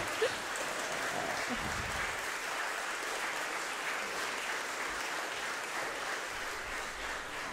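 Audience applause at a school music concert in Jūrmala, a steady, dense clapping that fills the hall from start to finish at moderate level with no voices over it.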